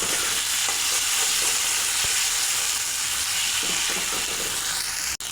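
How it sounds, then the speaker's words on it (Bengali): Spice masala for a fish curry sizzles and fries in a pan, a loud continuous hiss with occasional stirring scrapes and a sharp click at the end, no talking. "এবার ভালো করে কষিয়ে নেব"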